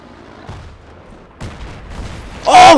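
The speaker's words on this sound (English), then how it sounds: "Half the wall I was behind just blew up!" Explosion blowing up a wall in the video game Battlefield 3, a sudden loud burst at the end after quieter gunfire and game noise.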